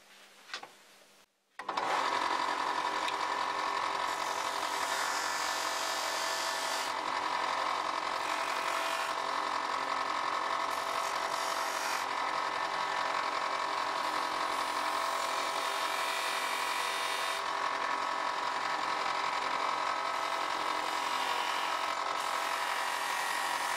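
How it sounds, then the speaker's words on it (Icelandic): A large electric sander starts after a brief quiet moment and then runs continuously with a loud, steady whirring drone, its pitch shifting slightly as it works the surface. "Ég get notað pússivél sem ég á, eina stóra mikla."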